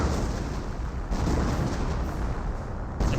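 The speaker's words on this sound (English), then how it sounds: "And more artillery running on in. Looks like a creeping barrage." A Company of Heroes artillery barrage rumbles on as a continuous wall of booming explosions, dense and loud, with strikes rolling into one another and no voices.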